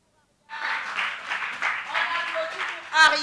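A studio audience at a French Christmas television show breaks into sustained applause that starts abruptly and continues steadily, with a voice speaking over the clapping.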